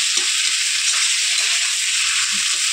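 A spiced potato mixture is stirred as it fries in a pan, giving a steady loud sizzle with soft scraping stirs underneath throughout.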